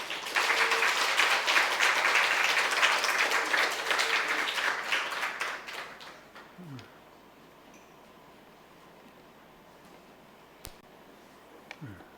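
A church congregation applauds warmly for several seconds, the clapping dense at first, then thinning out and fading into quiet room tone with a few stray sounds.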